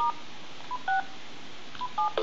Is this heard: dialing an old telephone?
yes